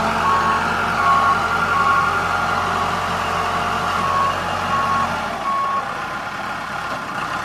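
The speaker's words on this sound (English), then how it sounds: "Has the backup alarm on it." A 1996 Case 580L backhoe loader's backup alarm beeps in a steady repeating pattern over the loud rumble of its running diesel engine, close and continuous, with the engine note dropping near the end.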